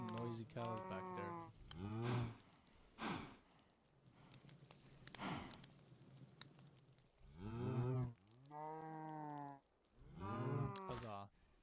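Cows in the Sky Factory 5 video game give a run of long, overlapping moos and lowing calls, close and prominent, broken by short pauses and faint background game noise.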